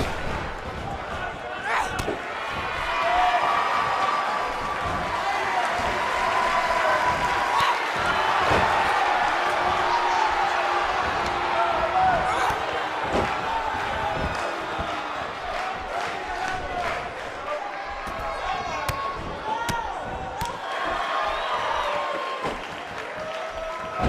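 A wrestling arena crowd at a women's wrestling event reacting to a lopsided match, a loud, continuous roar of cheers and shouts with scattered sharp slams and thumps throughout, and talk mixed in.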